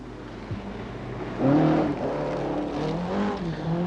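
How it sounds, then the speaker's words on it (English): A rally car engine revs up with rising harmonic whine, accelerating in surges out of corners, fairly close and loud over a low rumble, during the 1985 Lombard RAC Rally. "Accelerating away, desperately trying to keep the revs up to be as fast as possible out of the corners."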